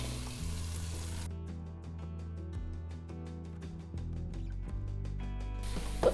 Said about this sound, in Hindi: मैंने अनियंस को तेज़ गैस पे सॉटे किया है।